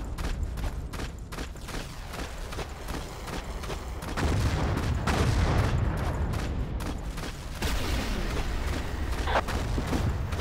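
Artillery and coastal gun fire in a Siege of Kut al Amara battle from a World War One shooter game, heard as a dense, continuous mix of booms and gunfire that grows heavier midway.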